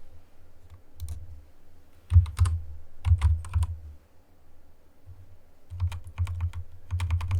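A failing wireless computer keyboard being typed on, with irregular clusters of sharp clicks over a low steady hum, close by and without talk.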